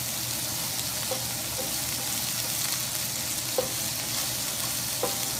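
A burger patty fries on a hot cooking surface, giving a continuous broad sizzling hiss with a few faint clicks and taps. The sound is steady and close, with no talking.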